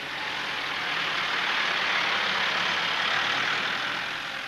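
An International Harvester 85-series farm tractor engine runs steadily, a dense, even mechanical roar that stays close and constant without a break.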